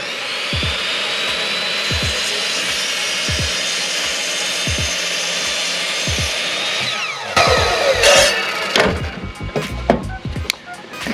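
A power tool cuts through a wooden 4x4 post while mounting a trolling motor on a Perception kayak, a steady close whine with repeated knocks, ending in louder rattling bursts as the cut finishes.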